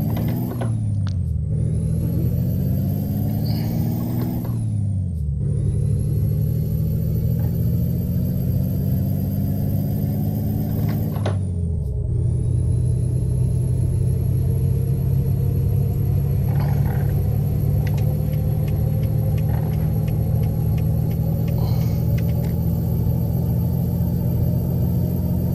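Freightliner Coronado truck engine in American Truck Simulator heard from outside, a loud, steady diesel drone with a few rising rev sweeps early on, then a long constant idle-like roar.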